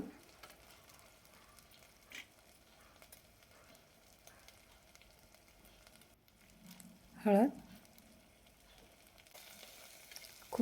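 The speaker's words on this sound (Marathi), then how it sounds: "खूपच छान लागते ही भाजी छान तेल सुटेपर्यंत परतून घ्यायचं" Bathua (chenopodium) greens sauté in oil in a pan, a soft steady sizzle with a brief louder stir partway through, while someone speaks over the cooking.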